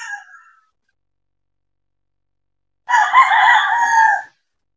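A Harold Brown Gray gamefowl rooster lets out one loud, close crow of about a second and a half, preceded by the tail of an earlier call, with silence in between.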